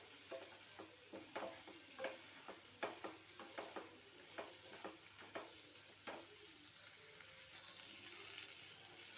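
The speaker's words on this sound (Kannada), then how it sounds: "ನೋಡಿ, ಈ ರೀತಿ ಹುರ್ಕೋಬೇಕು." Chayote curry stir-fried in a pan: rhythmic spatula scrapes and stirs over a soft, continuous sizzle, quiet and close.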